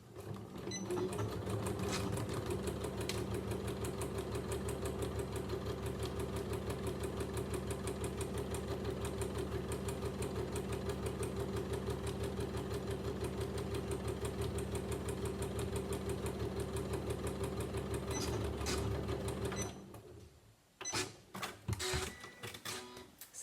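A sewing machine runs a regular straight stitch with the needle set in the middle, a steady, close, rapid mechanical hum and chatter for about twenty seconds before it stops and a few clicks and handling sounds follow.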